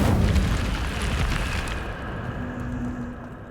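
Incendio fire spell cast in Hogwarts Legacy: a loud, dense burst of roaring flame with a heavy low rumble that fades into a softer, steady crackling tail.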